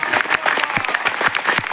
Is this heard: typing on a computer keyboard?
no